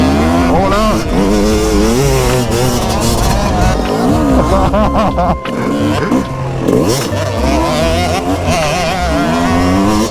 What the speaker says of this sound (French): Et ça craque leur petite moto là hein.